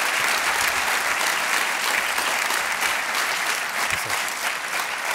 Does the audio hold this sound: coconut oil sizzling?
no